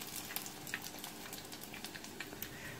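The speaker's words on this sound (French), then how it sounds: "les remettre dans le bain de friture" Chicken nuggets frying in a pan of hot oil over medium heat give a soft, steady sizzle with small crackling pops, faint and continuous, with no voices.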